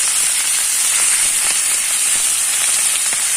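Masala-coated fish fries in a covered flat iron pan, giving off a loud, continuous sizzling hiss with small crackles scattered throughout.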